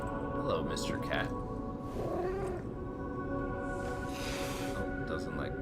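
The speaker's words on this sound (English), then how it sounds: "There's a cat." Cat meows in the video game Lies of P, a few short cries rising over a steady bed of game music and ambience, with someone talking throughout.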